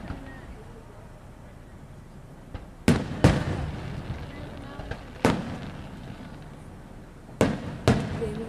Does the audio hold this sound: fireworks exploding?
yes